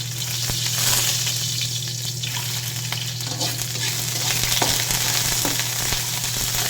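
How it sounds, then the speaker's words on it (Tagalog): Garlic sautéing in hot cooking oil in a pan, a steady close sizzle and crackle with occasional stirring scrapes, continuous and fairly loud with a low hum underneath and no talk. "Magpainitan ng mantika at unang gisahin yung bawang, kanyang aromatics"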